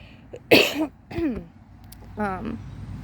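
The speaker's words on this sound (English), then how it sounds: "My apologies, I need to clear my throat again." A person clears their throat several times in quick, raspy bursts, close and fairly loud, with short pauses between.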